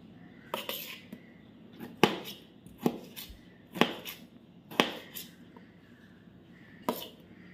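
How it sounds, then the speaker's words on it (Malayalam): A knife chopping vegetables into large pieces on a board, producing about eight sharp, separate knocks at an irregular, unhurried pace, close and fairly quiet, with faint clinks between cuts. "ഇതിനെ കുറച്ച് വലിയ പീസാക്കി ഇങ്ങനെ അരിയാം"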